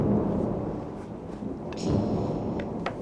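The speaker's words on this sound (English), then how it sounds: "And then we're going to need some gentle rain." Steady rainfall hisses throughout, joined by rumbling thunder that swells near the middle, with a few sharp crackles standing out against the wash of rain.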